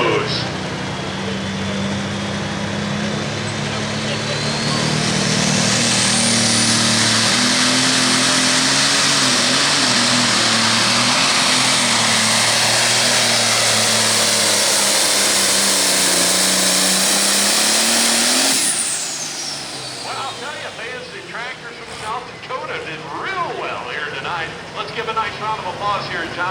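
Diesel pulling tractor in the 8,500 lb light pro class at a Hillsboro, Wisconsin pull, a loud sustained roaring engine with turbo whine climbing in pitch for about eighteen seconds, then cutting off as an announcer talks over the crowd.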